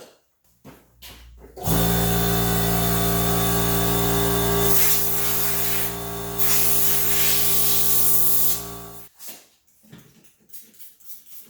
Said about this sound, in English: And I'm going to spray it down with some wax and grease remover to remove any of the remnants.